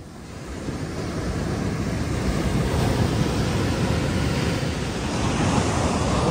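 Waves wash continuously onto a beach in Phuket as a broad, steady surf roar. Wind rumbles across the microphone throughout, and no one speaks.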